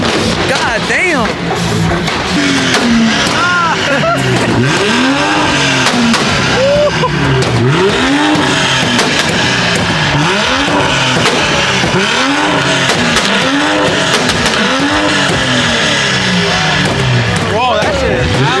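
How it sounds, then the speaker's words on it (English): A BMW and a Mustang trade revs in a rev battle, loud and close, with repeated rising-and-falling engine blasts and pops piling over one another. "These guys are having their own rev battle right now. The Beamer and this Mustang."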